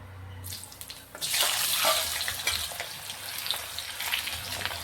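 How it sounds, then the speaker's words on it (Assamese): Potato pieces dropped into hot oil start a sudden loud sizzle that spreads into steady crackling and bubbling frying, close by and with no talking. "এতিয়া মই এয়া আলুটো ফ্ৰাই কৰি ল'ম"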